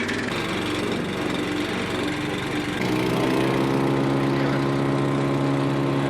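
A Hansa garden chipper's engine runs at half throttle, a loud, steady mechanical drone that shifts to a slightly lower, fuller pitch partway through, heard close with no one talking.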